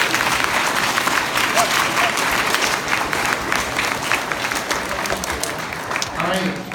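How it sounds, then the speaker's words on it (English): Students and staff give a loud round of applause and cheers for a student team's project, dense clapping from a large crowd filling the whole stretch, with scattered shouts and voices mixed in. "please give all of you a round of applause for this team"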